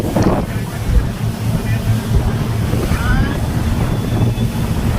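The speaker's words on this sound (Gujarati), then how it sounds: "વાવ, પવન તો છે" Strong wind buffets the microphone at a beach on Coral Island, Thailand: a constant low roar with surf washing underneath and faint voices in the background.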